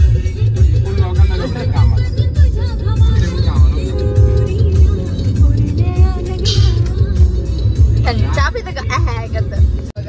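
A steady low engine rumble from inside a moving car, with people talking loudly over it almost the whole time.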